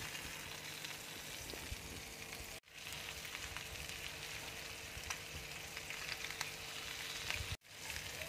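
Salt-rubbed eggs fry with garlic and green chili in a pan, a dense, continuous crackling sizzle close by, broken by two brief cuts to silence.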